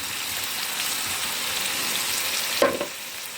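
Potatoes frying in a kazan for chanakhi, a steady hiss of hot oil sizzling close by, with one brief clattering knock near the end.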